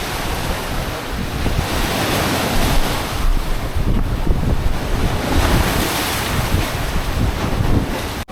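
Wind-driven waves wash steadily against the shore of Lake Victoria in Uganda, a continuous loud surf roar with gusting wind buffeting the microphone throughout, and no voices.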